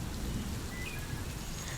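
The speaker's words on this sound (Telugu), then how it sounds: "వర్షం కూడా చాలా ఎక్కువ పడుతుంది." Heavy rain falls steadily as a dense, even wash of noise, fairly quiet and continuous with no voices over it.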